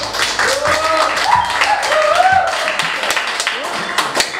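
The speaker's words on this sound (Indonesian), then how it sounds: "Tepuk tangan Kang Sablon" Applause for a guest introduced in Ciamis, puppet master Dalang Uya, known as Kang Sablon: a steady stretch of clapping lasting several seconds, mixed with voices and tonal sounds over it.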